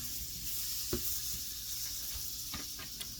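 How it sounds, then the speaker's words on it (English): Irish butter melting in a hot pan with a steady, close sizzle and crackle, plus a few sharp pops and a scrape or two as it gets pushed around. "you're just gonna kind of move it around, get it melted down"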